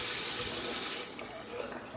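Hot water runs steadily from a tap into a sink, a loud continuous rushing splash that eases slightly partway through, with no other sounds competing.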